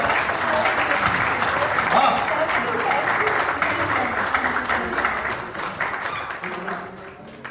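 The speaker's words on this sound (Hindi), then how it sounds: "आप लोग सच तालियों से समर्थन कीजिए।" Audience applause at a Hindi poetry recital, a dense steady wash of clapping from a large crowd that holds for several seconds and eases toward the end, with a brief spoken word over it.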